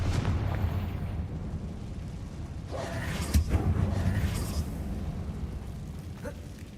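Confringo blasting spell in Hogwarts Legacy set off inside an abandoned mine, a fiery burst around the middle of a dense rumbling game soundscape, moderately loud with smaller pops trailing off.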